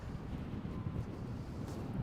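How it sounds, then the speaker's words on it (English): Low, rumbling wind buffets the microphone continuously, a steady blustery roar with no voices. "I know it's getting windy."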